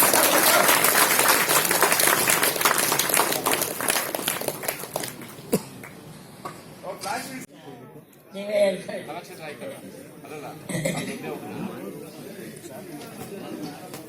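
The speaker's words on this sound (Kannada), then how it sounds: "ಜೋರಾದ ಚಪ್ಪಾಳೆಯನ್ನ ನೀಡೋಣ" Loud applause from an award ceremony audience, dense clapping for about seven seconds before thinning into scattered claps, a lone voice and murmurs.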